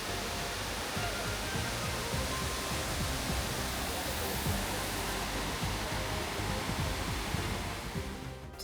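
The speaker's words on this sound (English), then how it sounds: "We have arrived here to the first pond with one of the biggest waterfalls I've ever seen." A large waterfall pours into a pond in a steady, dense broadband roar that stays loud and close throughout, with no other sounds over it.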